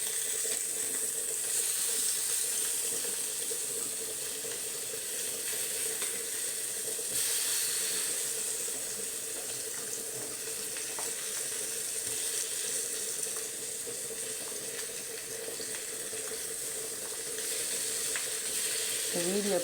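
Eggs frying in hot oil, a steady close sizzle with crackling and occasional stirring, loud and continuous with no pause.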